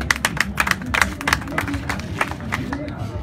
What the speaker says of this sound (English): Clap hand, please.